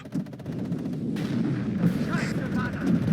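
Artillery fire and explosions rumble through a WARNO multiplayer battle, a dense, continuous barrage of booms and gunfire at moderate loudness with no pauses.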